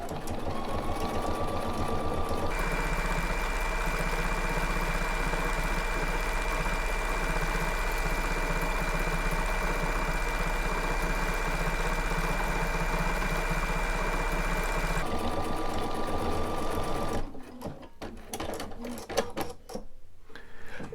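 A 9mm stitch width sewing machine embroiders lettering for a quilt label, running in a steady, dense mechanical whir for about twelve seconds before stopping, followed by softer handling clicks and rustles.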